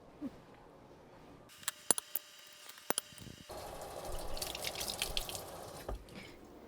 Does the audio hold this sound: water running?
yes